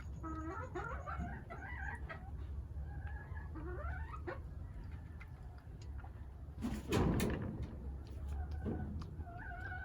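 Hens cluck steadily in a backyard flock, overlapping clucks and soft chatter, with a brief louder flutter or scuffle near the middle over a low background rumble.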